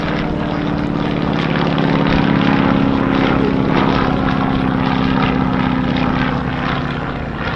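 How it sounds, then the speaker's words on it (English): A 1942-43 US Navy N2S biplane with a 220-horsepower Continental R670 radial engine flies at an airshow, its propeller drone steady and fairly loud throughout, with a slight swell midway. "This very attractive one, an N2S from the US Navy built"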